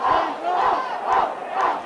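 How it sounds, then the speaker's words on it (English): Rugby league fans at a 1985 Oldham versus Warrington match chant in unison, a loud, rhythmic two-beat shout repeated about four times by a large terrace crowd. "The Oldham crowd shout off, off, off."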